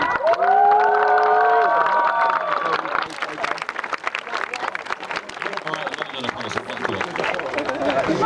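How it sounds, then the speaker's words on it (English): Audience cheering and applause at a sports world cup closing ceremony, opening with sustained shouts and whoops from a crowd, then settling into scattered clapping and crowd noise with voices throughout. "Give a big round of applause."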